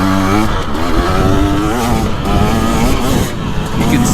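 A 2025 KTM 300XCW Champion Edition two-stroke dirt bike revs hard while being ridden, its loud, close engine note rising and falling with throttle, with no talk over it.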